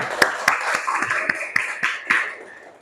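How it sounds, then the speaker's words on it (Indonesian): A classroom group of students claps in a quick, even rhythm during a maths lesson, about nine sharp claps spaced roughly a quarter-second apart over a soft murmur, ending with a brief tail. "Tepuk tangan untuk kita semua."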